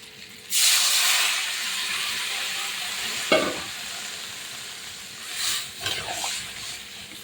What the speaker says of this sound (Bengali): এবার নেড়ে চেড়ে জল দিয়ে দেবো যেহেতু ভাজা মাছ ভাজা আলু ভাজা